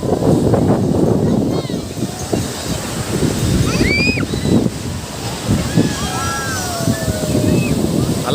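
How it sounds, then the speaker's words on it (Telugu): Big ocean waves surge and wash ashore at Gokarna beach in a rumbling, pulsing roar with gusts of wind. Voices and shouts of people on the beach sound over it. "అలలు బాగా పెద్దగా వస్తున్నాయి కదా."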